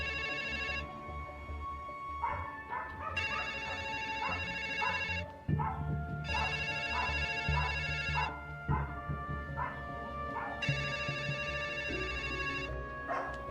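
Telephone ringing in a radio play, a repeated old-style ring in four spaced bursts over a dog barking and background sounds, fairly faint.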